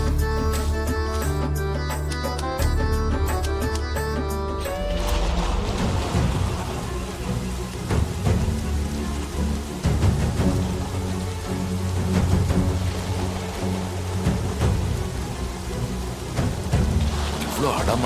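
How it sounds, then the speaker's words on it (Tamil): Heavy monsoon-style downpour with rolling thunder, a dense wash of rain drumming on surfaces and deep rumbles, loud and continuous, with a short stretch of music at the start. "இவ்வளோ அடமழையா இருக்கு."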